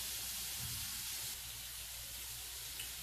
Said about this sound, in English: right now I'm frying some more